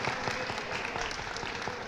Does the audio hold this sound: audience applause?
yes